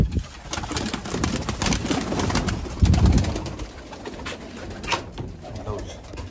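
Breeding pigeons, a male and female pair kept in a loft with eggs, give soft repeated low cooing close by, with light rustling and shuffling throughout.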